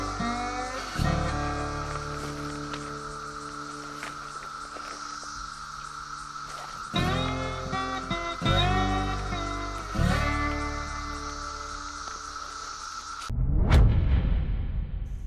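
Cicadas chorus thickly in the southern part of the state, a steady high buzzing drone holding through the whole stretch, with louder swells and a sharp rush near the end.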